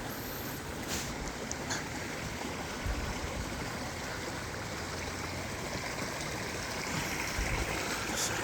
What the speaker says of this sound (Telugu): వాటర్ అయితే ఘోరం అంటే ఘోరంగా ఫ్లో అవుతుంది